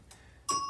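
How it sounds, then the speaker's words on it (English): A hanging bell rung by dogs wanting to go outside gives a single bright metallic ding that rings on clearly after a soft earlier tap. "as my dogs ring the bell and want to go outside"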